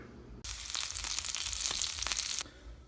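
Bacon sizzles loudly in a hot pan for low-carb quiche muffins, the crackling cutting in sharply, holding for about two seconds with a few pops and scrapes, then dropping away to a low hum; no voices.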